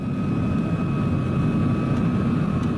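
A steady, broad roar of an airplane flying overhead, continuous and even in loudness with a faint tonal whine, no voices.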